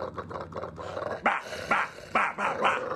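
A man's dog barks several times in close, sharp, growly bursts after some softer yips at the start, each bark loud and near.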